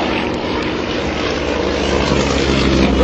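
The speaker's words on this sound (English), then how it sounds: "There goes the Yak-18, there goes Dad, the Yak-55. Look at that simultaneous rolls on takeoff." A Yak-18 and a Yak-55 take off side by side, their propeller engines droning loud and steady throughout with a broad, rough roar and no talking.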